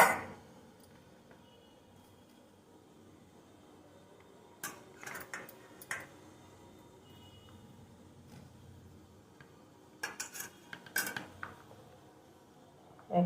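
Homemade chira snacks lifted out of a pan one by one, heard as faint, scattered clinks and taps of a utensil against cookware over a quiet background, with a few small clusters of knocks.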